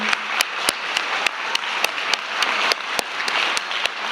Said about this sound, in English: can you please stand up so we can just clap for you and thank you for your dedication